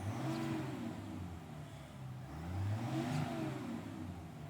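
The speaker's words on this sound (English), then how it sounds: "Let's give her a little rev, shall we?" A 2020 GMC Sierra 1500 Elevation with a Duramax turbo diesel engine is revved twice while idling, the engine note rising and falling in two swells, moderately loud and heard fairly close.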